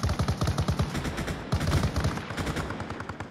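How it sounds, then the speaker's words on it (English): Rapid bursts from a BTR armored vehicle's main cannon firing at a Huey helicopter in a video game, heavy rhythmic booms in quick succession, loud and close, with a brief pause between volleys. "Don't be afraid to use the main cannon."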